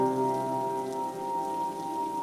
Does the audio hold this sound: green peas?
no